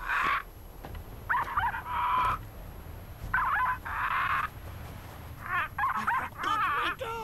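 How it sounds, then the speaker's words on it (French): Several short bursts of high-pitched dog barks and yips in the video game The Cave, spaced apart with quiet gaps, the last cluster more rapid and warbling. "Faire aboyer le chien avec le perroquet."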